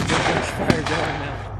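Gunfire during a military demonstration at a museum open house, heard as a sharp loud report amid continuous rumbling background noise, with a voice faintly present.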